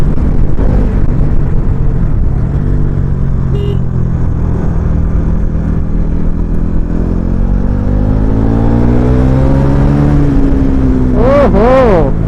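A motorcycle engine revs close and loud, its pitch climbing and dropping as it accelerates quickly up through the gears, with a continuous drone and wind rush underneath.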